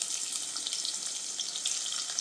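Onions frying in a pan for Nellore-style mango prawn curry, a steady bright sizzle with small crackles, close and even throughout.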